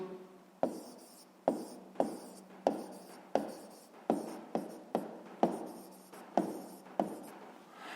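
Pen strokes on notebook paper during a sixth-grade maths exercise, about a dozen short scratchy bursts in a steady rhythm, close and quiet with no talking.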